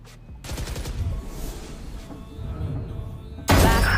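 Gunfire rattles in the video game Valorant, with rapid shots and impacts layered over game effects, then a sudden loud burst near the end.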